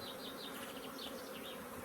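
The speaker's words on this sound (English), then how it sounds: "That's why these bees are a bit grumpy, you know?" Agitated honey bees buzz steadily around an open hive after the colony swarmed, a dense, close, unbroken drone with individual bees whining past nearby.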